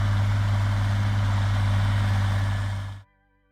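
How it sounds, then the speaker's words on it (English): A vintage International Harvester 1466 farm tractor's diesel engine idles with a deep, steady low rumble, heard close and loud on its own before cutting off abruptly near the end. "You heard it before you saw it, that deep diesel rumble"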